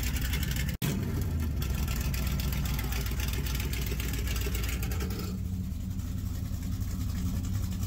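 A small-block Mopar 340 V8 with a 727 automatic transmission idles steadily with a deep, lumpy low rumble, loud and close throughout, with a brief cut partway through.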